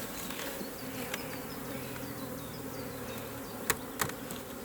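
Honeybees buzz steadily around an open hive while splits are made using queen cells, a continuous droning hum that is close and even, with a few faint knocks.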